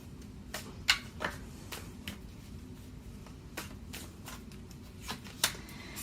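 Tarot cards shuffled by hand, a quiet, close run of soft riffling and papery slaps with scattered sharper flicks, heard alone without talk.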